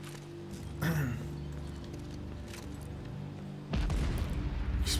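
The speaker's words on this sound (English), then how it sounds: "Explosion." In Tom Clancy's The Division 2, a deep boom bursts out partway through over a low game soundtrack, followed by rumbling impacts and crackling debris.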